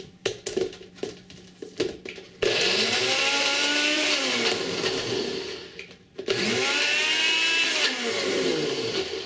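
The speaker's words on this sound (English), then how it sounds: "We're going to give this a blend." A loud blender whirs continuously blending garlic chutney with a little water, its motor pitch dipping and rising as the thick mixture churns, with a brief stop before it starts again.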